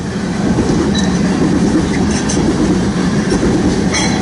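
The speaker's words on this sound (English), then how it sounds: "It's one of my favorite trains to see go by." A coal train rolls past close by, producing a loud, continuous rumble and rattle of wagons with faint wheel squeal and clatter throughout.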